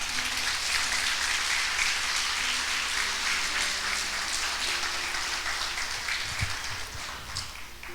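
A church congregation applauds during a Spanish-language service, a dense, sustained patter of many hands clapping at moderate distance, with a faint sustained musical tone beneath that tapers slightly at the end.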